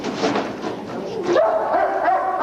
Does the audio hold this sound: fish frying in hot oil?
no